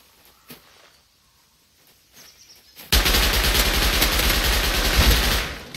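Gunfire in the game Rust bursts in after quiet footsteps and rustling, a loud rapid stream of automatic shots hammering on for several seconds close by.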